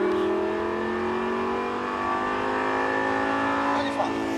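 A Lamborghini Gallardo LP560-4 engine pulls steadily upward in pitch as it accelerates, loud and close, with smooth rising harmonics throughout.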